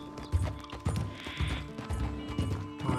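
A horse's hooves clop unevenly on a steep mountain pass in Red Dead Redemption 2, with tack rattling over a low ambient bed, the hoofbeats close and moderately loud.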